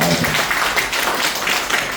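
Audience applause at a gathering, a dense, even wash of many hands clapping close by, filling the whole moment with no gaps.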